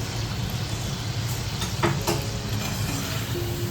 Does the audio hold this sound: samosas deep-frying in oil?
yes